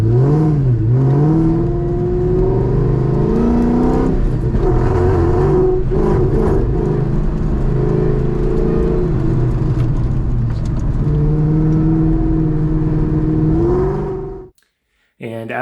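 A Shelby Cobra replica's engine pulls loudly under acceleration, its rumbling tone rising through the gears with a rough, uneven stumble as it breaks up, before cutting off abruptly near the end, with a voice talking over it.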